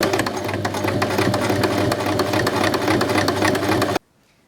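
A sewing machine top stitching the folded binding on a button-up shirt, a fast steady mechanical whirring chatter running loud and close for about four seconds before stopping abruptly into silence.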